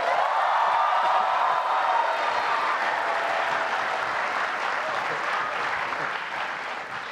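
A television talk show studio audience claps for two Indonesian badminton players, a full, steady roar of applause that holds for several seconds and eases slightly at the end.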